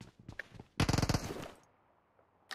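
Gunfire in the video game PUBG Mobile, a rapid automatic burst of shots after a few scattered single cracks, loud and close, then fading into a quiet tail.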